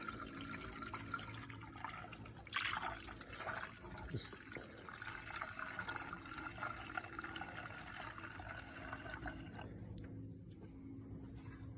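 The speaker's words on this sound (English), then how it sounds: "I'm gonna fill it with water." Water pours and trickles into the coolant tank of a Peterbilt 388 truck, a steady liquid rush with faint voices and clatter in the background.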